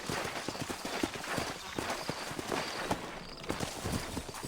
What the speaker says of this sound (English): Tem um cavalo aqui, mas não tem ninguém aqui.